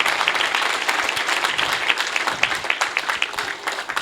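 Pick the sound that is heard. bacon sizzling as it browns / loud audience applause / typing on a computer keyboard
loud audience applause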